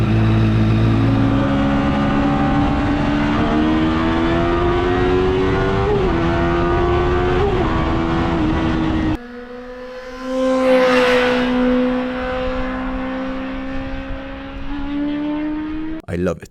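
A Honda CBR 1000RR motorcycle engine fitted in a car screams and climbs in pitch toward 13,000 RPM, drops briefly at a gear shift, then winds up again, loud and close throughout.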